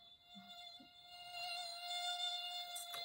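A mosquito buzz plays from a phone speaker, a thin steady high-pitched whine that holds for the whole stretch at a faint, even level in a quiet room.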